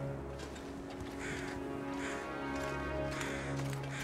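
Ravens cawing in the snowy wilderness of the survival game The Long Dark, a few harsh, rasping calls at moderate distance over a steady low ambient drone.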